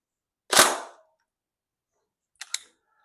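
Tokyo Marui MP5A5 Next Gen airsoft electric gun fired without ammo, one sharp loud report followed after about two seconds by a quieter double mechanical click, alone in a silent room.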